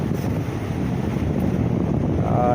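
Strong waves, driven by the southwest monsoon (habagat), surge and rush continuously, close and loud, with wind buffeting the microphone throughout.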